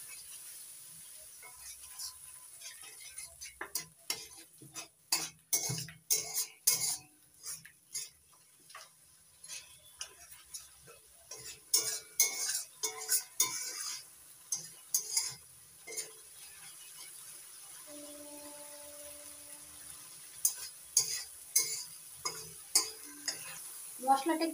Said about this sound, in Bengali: এবার অল্প অল্প জল দিয়ে মশলাটা ভালো করে কষিয়ে নেব